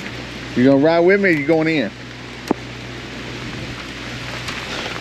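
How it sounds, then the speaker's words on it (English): Steady rain falls after a storm, a soft broadband hiss running through the whole clip while someone speaks briefly near the start, with a single sharp tap midway. "We ain't scared of a little bit of rain, are we?"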